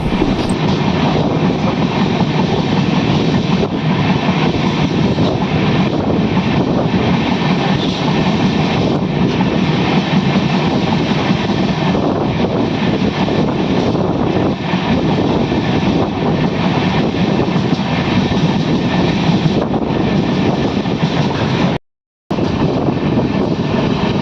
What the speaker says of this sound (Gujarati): 1 2 3 એન્જિન સાથે લોડિંગ ગાડી છે.